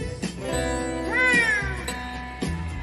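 A cat meowing repeatedly, with one long drawn-out rising and falling meow in the middle flanked by shorter calls, close and clear with no talking.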